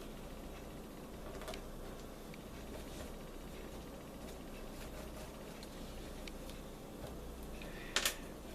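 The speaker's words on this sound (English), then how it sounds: "go ahead and continue my stitches until the end" Coiled sedge basket being stitched by hand, faint crisp rustling and small ticking clicks of fibre pulled through the coils, quiet and close, with a sharper crackle near the end.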